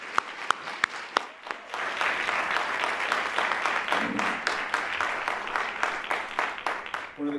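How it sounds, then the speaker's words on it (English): Audience applause for the educators of the year swells after a few isolated claps, then holds as steady, full clapping from a large crowd. "Let's hear one more round of applause for them."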